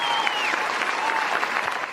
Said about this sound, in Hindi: मंत्री जी के सम्मान में जोरदार तालियां बजा दीजिए